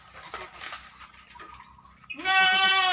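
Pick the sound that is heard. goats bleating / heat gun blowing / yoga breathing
goats bleating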